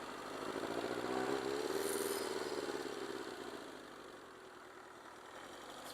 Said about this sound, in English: I like this super loud exhaust on this bike